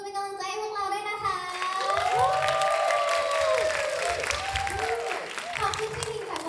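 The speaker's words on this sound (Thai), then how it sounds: "ขอเสียงปรบมือเป็นกำลังใจให้พวกเราด้วยนะคะ" A crowd at an a cappella singing event applauds and cheers, clapping swelling loud and steady while someone speaks over it and excited voices rise in the mix.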